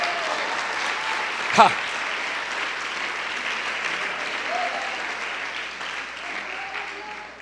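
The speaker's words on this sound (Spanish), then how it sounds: "denle un aplauso fuerte al Señor" A church congregation gives loud applause to the Lord during a sermon, a continuous wash of clapping that holds steady and fades slightly toward the end, with a brief voice cutting through early on.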